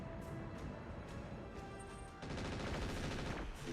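Mech machine guns firing in MechWarrior, a dense continuous rattle of rapid shots over a rumbling battlefield bed, growing louder and busier partway through, close and sustained.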